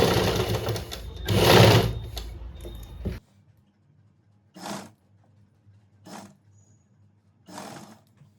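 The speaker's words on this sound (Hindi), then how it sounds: "और इस तरह से सिलना स्टार्ट करेंगे।" A sewing machine stitches a sleeve onto a garment, with a few seconds of steady close stitching followed by silence broken by three or four short stitching bursts.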